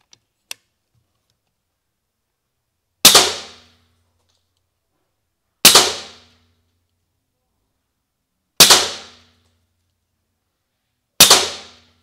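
Four sharp, loud shots from a Taipan Slash PCP air rifle ring out at steady intervals of about two and a half seconds, each a crisp crack with a short decaying tail, with near silence between them.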